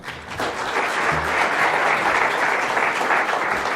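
Sustained audience applause after a Holocaust survivor's talk at a speaking event, dense and steady clapping that swells slightly and holds for several seconds, loud and close.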